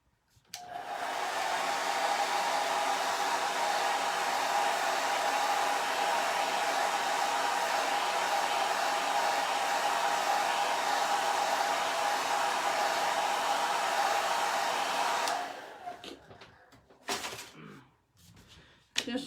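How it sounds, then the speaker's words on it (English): A blow dryer dries stencil paint on a Valentine's pennant craft, a steady, loud whirring hum with a constant whine that runs for about fifteen seconds, then cuts off and leaves a few soft clunks and handling noises. "Just using my blow dryer to"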